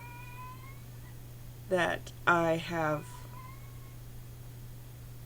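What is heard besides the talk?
cat yowling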